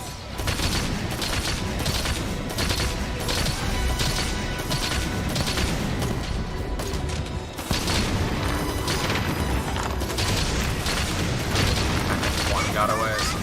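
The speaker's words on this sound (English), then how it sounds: "time for machine guns" Machine guns fire steadily during a battle in Monster Hunter Rise, a dense rattling stream of shots mixed with booms and game noise, with people talking over it.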